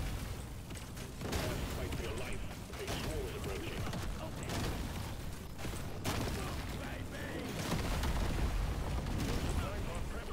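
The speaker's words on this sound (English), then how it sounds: "That is a lot of explosions." Dense, continuous rumbling roar of many overlapping explosions, loud and sustained without letup, with rattling mechanical noise mixed in, in the video game Deep Rock Galactic: Survivor.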